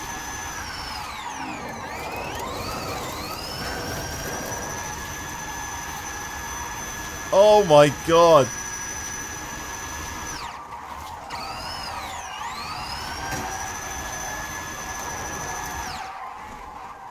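A BMW car engine in the racing video game Forza Horizon 5 whines loudly with rising and falling pitch sweeps as it revs. A voice exclaims briefly in the middle.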